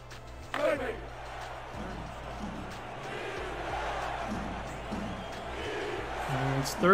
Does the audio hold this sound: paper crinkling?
no